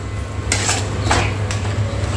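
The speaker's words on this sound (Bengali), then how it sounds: "এবার এটা খুব ভালোভাবে মিশিয়ে একটু কষিয়ে নেব।" A spoon scrapes and clatters in a pan as yogurt is stirred into a jackfruit curry masala, a few distinct metallic strokes over a steady background hum, close and fairly loud.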